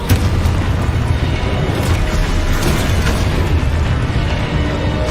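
A Confringo spell exploding in the video game Hogwarts Legacy, a loud rumbling boom with sustained crackling roar filling the whole stretch, dense and unbroken, with no speech.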